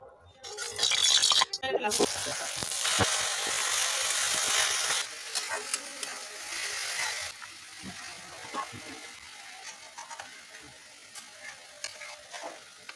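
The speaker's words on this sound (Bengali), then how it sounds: "আমি এবার লাউটা ভাজার জন্য এখানে ঘি দেবো।" Bottle gourd frying in hot ghee gives off a steady sizzle, loud at first and then settling into a quieter crackle, with a person talking over the cooking and occasional clinks of a utensil.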